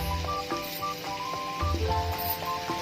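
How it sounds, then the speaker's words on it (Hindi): Paneer cubes frying in a pan in a home kitchen, a soft continuous sizzle under a busy mix of faint background tones and clatter, no talking. "यहाँ पर हो रहा है पनीर फ्राई"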